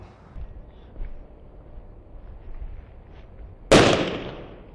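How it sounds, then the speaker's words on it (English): A generic M80 firecracker detonates in one sudden, loud, sharp bang after a few seconds of quiet background, its blast decaying quickly into a short echoing tail. "this is going to be one of the generic M80s that you can pick up at any fireworks stand"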